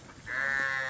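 A single sheep on a sheep farm lets out one long, close, fairly loud bleat with a wavering tone, heard over quiet background noise.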